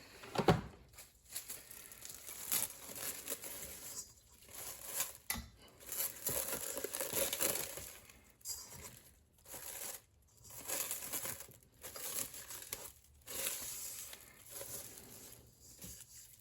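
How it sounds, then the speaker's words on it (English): Plastic wrap crinkling and rustling as it is stretched over a bowl of New York style pizza dough, a close, fairly quiet run of irregular crackles with brief pauses, no talking. "I'm gonna go ahead and use plastic wrap"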